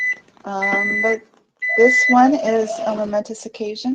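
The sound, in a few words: beeping alarm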